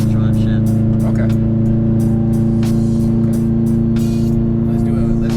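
A 2015 Subaru WRX STI with a stock transmission heard from inside the car, its engine droning loud and steady throughout while people talk over it.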